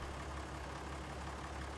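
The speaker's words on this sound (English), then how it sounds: "I know I left the tractor running and the forks up." Tractor engine idling in Farming Simulator 19, a steady low, even rumble held throughout at moderate level, with no speech.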